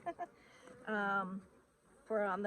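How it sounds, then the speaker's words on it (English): Honeybees flying around backyard hives in mid-October, with two close, loud buzzing passes near the microphone and fainter humming between them. "So the bees are starting to get snoopy."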